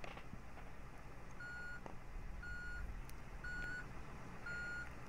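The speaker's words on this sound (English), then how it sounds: "I like the backup noise." Reversing beeper on a 1999 AmTran International school bus in the Rigs of Rods driving game: a steady series of four evenly spaced electronic beeps, about one a second, over a constant low engine idle.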